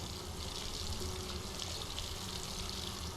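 Water in the video game Solarpunk makes a continuous hiss of running or flowing water, steady and moderately quiet, with no voices over it.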